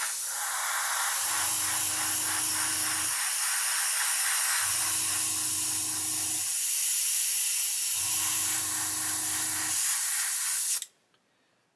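An airbrush sprays VMS No Peel primer in a steady loud hiss lasting about eleven seconds, with three brief low pulsing bursts from the compressor underneath, before cutting off abruptly.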